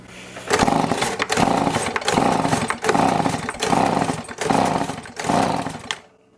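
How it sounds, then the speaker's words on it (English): A Stihl blower vac engine being pull-started repeatedly for a compression test: about seven loud, rasping cranking bursts in a steady rhythm, close by, with no voice over them. "on a small engine I usually just give it about 6 or 8 pulls, something like that, until it's done building pressure"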